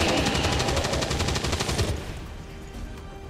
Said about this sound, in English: I love using the Gatling cannon to kill anything.